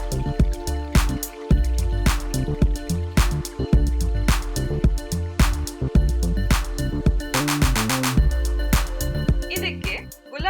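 Thick alcohol-free aloe vera gel sanitizer is poured into a squeeze bottle, giving repeated wet squishes, drips and gloopy plops at an irregular pace, close and clear.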